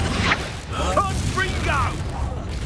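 Confringo fire spell blasts in the Hogwarts Legacy video game crackle and boom over a steady bed of game effects, with a voice shouting the spell through the middle.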